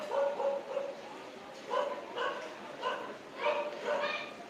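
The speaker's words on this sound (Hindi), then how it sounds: "कुत्ता आवाज आ रही बहुत।" A dog barks repeatedly in the distance, a series of faint, evenly spaced yaps carrying on for several seconds over a steady background hum, with no one speaking nearby.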